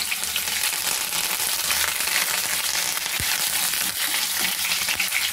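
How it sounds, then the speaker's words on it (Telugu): Green chillies and curry leaves hit hot oil in a pan for a prawn and drumstick pulusu. Dense, continuous crackling sizzle is heard close up, with a few stirring knocks and no speech. "నూనె కాగుతుంది కదా, ఇప్పుడు మనం పచ్చిమిర్చి వేసేద్దాం."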